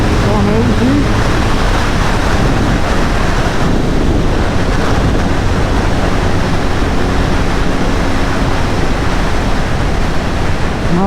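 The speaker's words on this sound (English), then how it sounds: "it is a naked bike, so it does get noisy and windy" Loud, steady roar of rushing wind buffeting a rider on a BMW R nineT 719 Edition naked motorcycle at high speed, with engine drone buried beneath the continuous broadband blast throughout.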